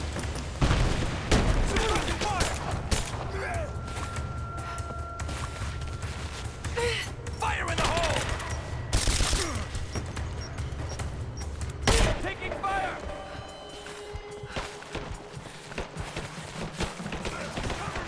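Gunfire in the video game Rise of the Tomb Raider, with bursts of shots, booms and mechanical clatter across a busy battle mix while game characters speak and gasp over it.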